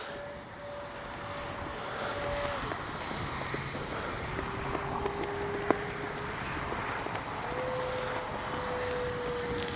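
A Freewing 90mm F-4 Phantom II RC jet flies overhead with a steady, fairly loud electric ducted-fan whine that holds near constant, shifting pitch a few times as the throttle changes.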